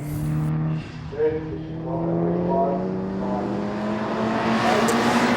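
A race car at a Mitsubishi Evolution nationals shootout crosses the start-finish line and accelerates, its rising engine whine steady and fairly close while a commentator talks over it.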